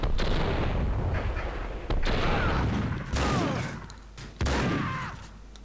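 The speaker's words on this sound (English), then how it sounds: "Someone must have heard the gunfire." Gunfire in the video game Max Payne 2, a series of heavy booming shots, roughly four, each hitting sharply and then ringing out in a long decaying tail, loud and close with no talking.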